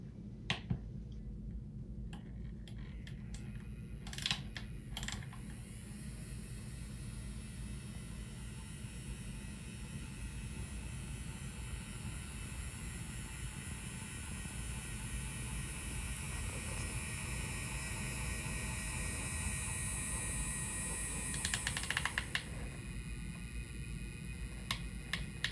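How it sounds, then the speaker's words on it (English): Steady, faint hum from the very small motor of a Zugspitzbahn model train running with its sound effects switched off, continuous throughout with a few sharp ticks and clicks. "hear what the hum of the very small motor with all the sounds turned off sounds like as the train runs along"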